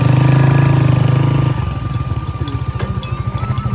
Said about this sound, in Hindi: बाइक को घुमा लेते हैं और पीछे की तरफ चलते हैं